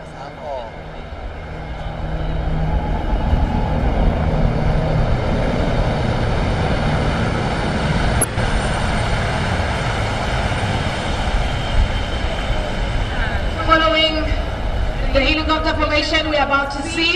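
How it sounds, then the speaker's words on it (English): A formation of A109 military helicopters passes at an air force base display during South Africa's Armed Forces Day, heard as a loud, sustained rotor and engine roar that builds and holds for the whole stretch, with crowd and announcer sounds underneath. "Ladies and gentlemen, the helicopter formation."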